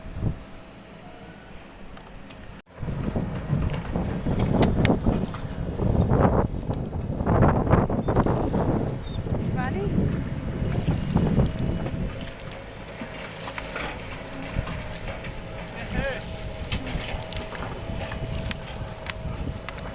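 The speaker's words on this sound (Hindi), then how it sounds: "चलिए करते हैं आज बोट की सवारी।" A boat ride on open water, with a steady rumble and churning wash mixed with wind buffeting the microphone, loudest in the middle and easing toward the end, with no clear speech.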